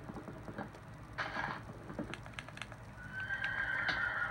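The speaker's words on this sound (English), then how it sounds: "This is a really fast horse." A horse in a survival video game whinnies, a faint, drawn-out cry that rises into a longer high neigh, over soft clicks and clip-clop hoofbeats at low level.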